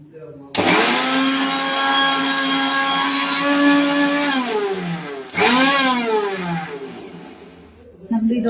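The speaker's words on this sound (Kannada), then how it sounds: "ನಮ್ದು ಇದು ಹೊಸ ಮಿಕ್ಸಿ ಆದ್ರೂ ತುಂಬಾ ಅವಾಜ್ ಬರುತ್ತೆ." A new mixer grinder grinding masala with a little water, a loud close whining motor that holds steady, drops off, then revs up again in a second burst before winding down.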